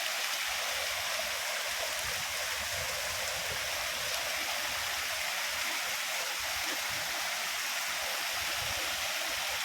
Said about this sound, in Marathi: कातळामधनं पाणी येताना दिसतंय ते.